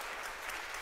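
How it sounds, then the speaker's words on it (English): Brief, faint applause from a Sunday service congregation at Unity Temple on the Plaza, a soft patter of many hands clapping at a distance. "don't you think that deserves a round of applause coming from each of our hearts?"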